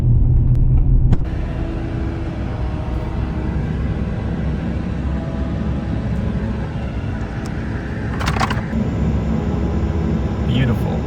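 Truck rolling along a highway, a steady loud low road rumble and engine drone that carries on without a break, with wind noise and a brief rattle near the end.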